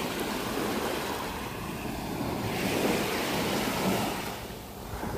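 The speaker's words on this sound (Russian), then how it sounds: "Восемь 15, а мы уже на море." Sea surf breaking and washing onto the shore of a Ligurian beach in Italy in the early morning, a steady close roar of waves swelling and easing with wind noise across the microphone, no voices.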